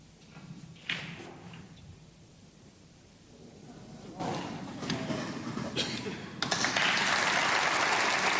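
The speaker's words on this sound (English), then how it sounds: "The applause is for Ding Junhui, who is now a frame away from victory over Michael Georgiou." Spectators at a snooker tournament, the German Masters, start applauding partway through, the clapping swelling from scattered claps to a full, steady round; quiet table sounds and a few thumps come first.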